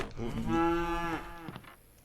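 Cattle mooing in the video game Contraband Police: one long, drawn-out bovine moo, loud and close, that swells and then trails off, with no talking.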